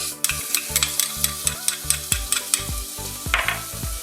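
Garlic sizzles in hot olive oil in a pan, a close, steady frying hiss broken by regular scraping stirs of a utensil against the pan, with no voices.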